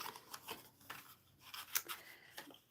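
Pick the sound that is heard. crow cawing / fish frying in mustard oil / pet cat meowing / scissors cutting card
scissors cutting card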